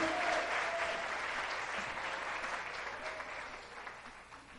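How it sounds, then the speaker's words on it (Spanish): A church congregation gives sustained applause, a dense wash of clapping that slowly fades in level over several seconds. "le da un fuerte aplauso a Jesucristo, nuestro Rey y Salvador"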